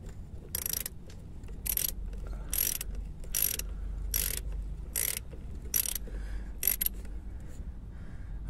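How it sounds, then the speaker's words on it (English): Loosening jubilee hose clips on the fuel filter of a BMW E60 5 Series, heard as a series of sharp, close ratcheting clicks in short bursts over a low background rumble. "let me get these jubilee clips loosened"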